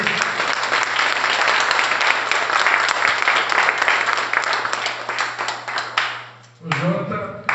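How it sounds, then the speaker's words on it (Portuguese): Audience at a church event applauding a guest, steady dense clapping that fills the room for several seconds before cutting off, followed by someone speaking. "Vamos dar uma salva de palmas para ele também."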